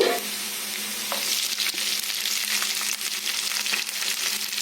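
Green chilies stirred into simmering tomato curry in a pan give a steady, close sizzle and bubbling frying hiss, with a few soft spoon scrapes through the mix and no talk.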